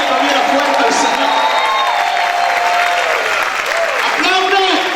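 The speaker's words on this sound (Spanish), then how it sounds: "Si yo con usted gritara y aplaudiera fuerte al Señor," Church congregation shouting and clapping loudly, a dense roar of applause mixed with raised voices and whoops, loud and sustained throughout.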